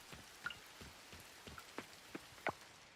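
Rain falls in the farming game Coral Island as a soft, steady patter, with scattered louder droplet plops standing out now and then. No voices are heard.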